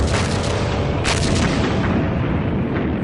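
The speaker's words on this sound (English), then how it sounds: "massive artillery bombardments" Continuous loud rumbling barrage of First World War artillery bombardment, dense overlapping booms and blasts with no gaps, one heavier burst standing out near the middle.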